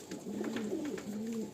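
Pigeons of the Kamagar Chitial type coo in a soft, rolling series of low, near calls that run continuously with no talk over them.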